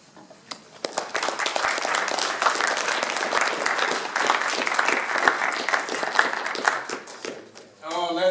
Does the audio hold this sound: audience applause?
yes